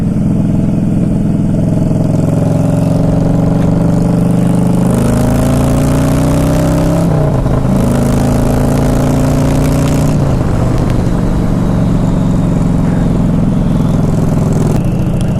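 A motorcycle fitted with tall ape hanger handlebars rides steadily with a loud, continuous engine drone, rising and falling as the throttle is revved and gears shift, with no voices over it.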